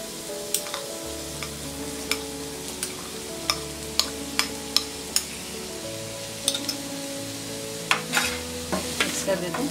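Carrot and beans are stirred in a sizzling pan for a restaurant-style veg sweet corn soup, a constant close frying hiss with scattered sharp spatula clicks against the metal.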